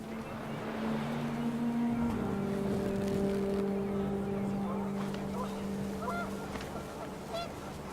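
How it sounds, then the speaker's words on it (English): Panicked geese honk in the video game What Remains of Edith Finch, with scattered calls over wind and a steady low drone while a voice narrates throughout. "The wind picked up, and panicked geese appeared and quickly went."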